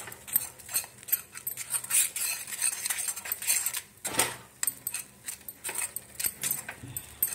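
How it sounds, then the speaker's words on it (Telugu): Thick henna paste is stirred and scraped in a bowl with a spoon, giving rapid irregular clinks and clatters of metal against the rim, close and uneven in loudness, with no voices. "అట్లా ఇది కొంచెం చిక్కగా కలుపుకోవాలి"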